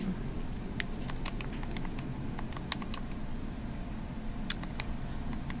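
Light, scattered clicks of typing on a computer keyboard, quiet and close over a steady low room hum, with irregular bursts of keystrokes and no talking.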